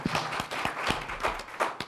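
Audience clapping at a civic event in Charlotte, heard as scattered, fairly close individual claps in an uneven rhythm, thin rather than a full roar, fading after a couple of seconds.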